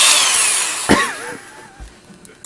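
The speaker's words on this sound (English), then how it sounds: "Ed developed the super high-speed drill." A super high-speed dental drill gives a loud, shrill, steady whine up close, then cuts off abruptly and leaves only faint scattered sounds.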